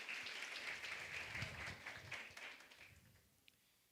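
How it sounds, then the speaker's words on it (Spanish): An audience at a revival prayer meeting claps steadily for a newcomer, a full crowd applause that thins out and fades near the end, leaving a faint room tone. "Un aplauso para él."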